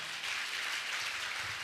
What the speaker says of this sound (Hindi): ताली बजाकर प्रभु को धन्यवाद दो,